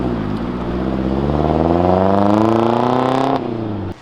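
A Suzuki Jimny's 1.6 litre petrol engine, fitted with a stainless exhaust, revs up close and loud in one smooth, rising drone that holds steady, then drops back and cuts off near the end.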